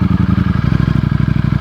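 A Ducati Streetfighter V4S motorcycle engine runs close and loud with a rapid, even pulsing rumble, heard alone for a brief moment.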